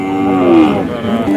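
A milk cow at a cattle sale in Somanur, offered with its young calf, gives one long, loud moo that swells and fades over about a second, close by and on its own.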